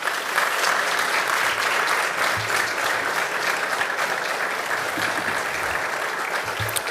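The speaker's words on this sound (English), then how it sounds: "your family, a round of applause." Sustained applause from a graduation audience, steady and dense clapping filling the room for the whole stretch without pause.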